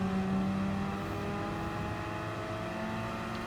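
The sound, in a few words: race car engines in Gran Turismo Sport, video game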